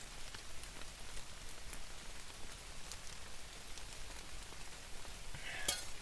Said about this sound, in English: Looks like it's going to be a dark, rainy day.